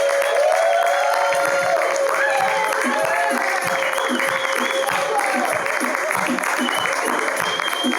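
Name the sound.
audience applause for an improv group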